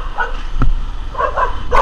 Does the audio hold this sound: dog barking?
yes